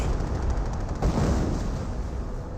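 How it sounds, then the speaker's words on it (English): Continuous rumbling barrage of artillery and gunfire from the Company of Heroes battlefield, a dense, steady roar of overlapping distant blasts that holds at an even loudness throughout, with no talking. "Now I've got another artillery barrage here. Almost looks like a creeping barrage to me."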